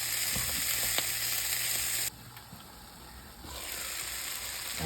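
Chickpeas for Guyanese bunjal channa fry in a pan with a steady, loud sizzle; about two seconds in, a splash of broth is stirred in and the hiss suddenly drops, then builds back up.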